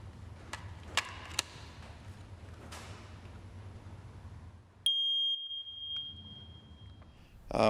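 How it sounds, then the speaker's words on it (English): A household smoke alarm sounds one long, piercing electronic beep partway through, after a few scattered knocks and clatters in a quiet room. "Fire alarms are extremely important to have in the house."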